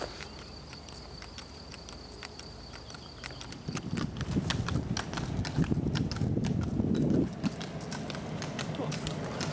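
A donkey's hooves clip-clop in a steady walking rhythm along a road in Bavaria over a constant high insect drone, growing louder and closer midway, with faint voices in the background.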